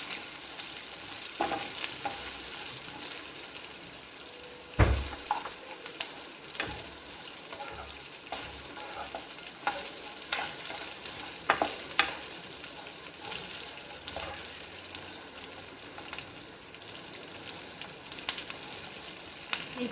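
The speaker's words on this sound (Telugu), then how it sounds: "ఆనియన్స్ ఫుల్ ఫ్రై అవ్వాల్సిన పని లేదండి. లైట్గా ట్రాన్స్పరెంట్ అయితే చాలు." Onions sizzle steadily in hot oil for mushroom biryani, a continuous crackling fry broken by scattered clicks and scrapes of stirring, with no talking.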